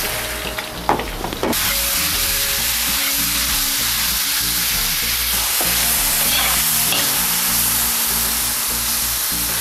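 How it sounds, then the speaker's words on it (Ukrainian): Portions of meat searing at high temperature in a kazan cauldron, a loud continuous sizzle and crackle that jumps up after a brief quieter start and holds steady throughout. "Кожна порція м'яса на високій температурі смажилась по хвилин 5."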